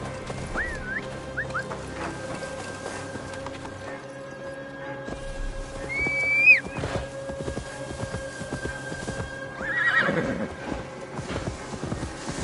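A horse in Assassin's Creed Valhalla neighs several times with shrill whinnies over steady clip-clopping hooves, close and clear, alongside game ambience.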